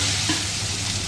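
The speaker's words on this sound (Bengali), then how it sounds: "এদিকে আমার পাবদা মাছ ভাজা হচ্ছে" Pabda fish frying in hot oil with a pinch of salt in a home kitchen, a steady, close, even sizzle with no talking.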